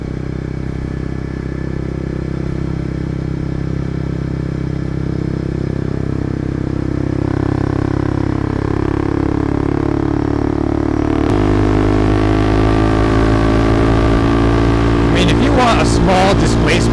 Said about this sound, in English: A small displacement motorcycle that can still go, 90, 100 mile an hour.